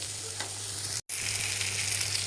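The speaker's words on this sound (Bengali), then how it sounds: "এখন আমি পটলগুলো নামিয়ে পেঁয়াজ মরিচ দিয়ে দিলাম। পেঁয়াজ মরিচটা ভাজা হয়ে গেলে" Onion and green chilli frying in a pan, a steady broadband sizzle throughout with a brief cut to silence midway, no voices.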